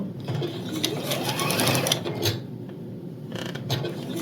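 A sewing machine runs close by stitching quilt seams, its needle mechanism chattering in a fast, steady mechanical rhythm with brief pauses and speed changes.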